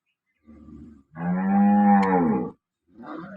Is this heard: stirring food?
no